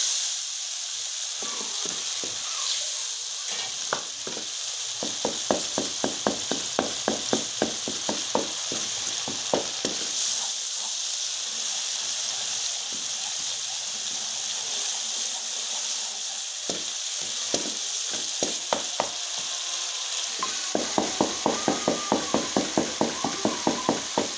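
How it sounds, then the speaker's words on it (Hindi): Tomato masala fries in ghee for a Sindhi aloo matar curry, a continuous sizzle broken by bursts of rapid, rhythmic spoon scraping against the pan. "इसे अच्छी तरह से भूनेंगे टमाटर को भी।"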